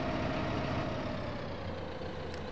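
A tractor engine in the farming game Farming Simulator 15 runs steadily at a loud, constant drone with a low rumble and faint whine, alone without talk.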